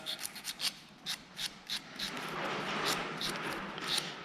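Rust is rubbed off the contacts of a Minerva starter motor with short, close scratchy strokes, first in separate quick rasps and then in a continuous gritty scrubbing, all quiet and close up.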